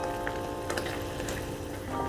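Red spice paste sautéing in a dry pan without oil, a continuous crackling sizzle with scattered small pops, close and steady with no talking.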